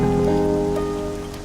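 Rain pours down heavily and evenly in a brief burst, mixed with a steady sustained tone in the background and fading slightly toward the end, with no voices.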